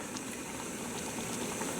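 Water boiling in a Jetboil camping stove with the lid lifted, a steady, close, rolling bubble and hiss with no voices over it.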